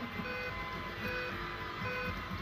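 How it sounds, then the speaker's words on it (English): Repeated short electronic beeps from a Bluetooth device in a steady pattern, fairly soft, over a constant background hum, during fiberglass resin work. "that beeping's the Bluetooth"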